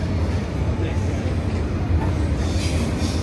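A train arriving at Amsterdam Central station fills the space with a continuous low rumble and clatter, and a thin metallic squeal rises near the end. Faint voices murmur underneath.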